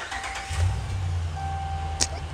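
A Dodge Ram 1500 engine turns over and settles into a steady, low, rumbling idle close by, with a thin whine above it and a brief sharp click near the end.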